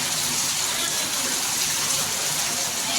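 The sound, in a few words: heavy rain pouring down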